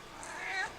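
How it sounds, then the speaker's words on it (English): A single cat gives one faint, drawn-out meow that rises and falls in a quiet room. "And my cat Oreo."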